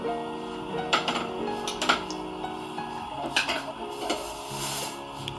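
Mixing grated onion, a seasoning cube, salt and habanero pepper in a bowl for crispy bean snacks: irregular clinks and scrapes of a utensil against the dish, close and moderately loud, over a faint steady hum.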